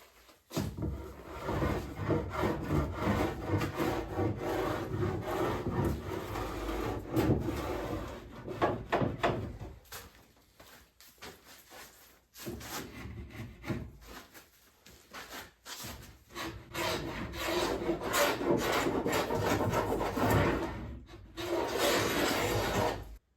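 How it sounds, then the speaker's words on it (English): Hand chamfering the edges of an old pallet wood workbench top produces continuous rasping and rubbing strokes, fairly close and steady, with a few short pauses partway through. "So I'm going to chamfer the edges off a little bit"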